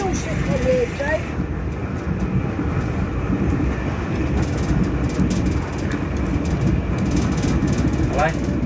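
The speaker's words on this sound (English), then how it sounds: "We're on the way home now, we're on the train now." Class 375 train running on rails, a steady loud rumble and rattle of the carriage throughout, with occasional squeals and voices talking over it.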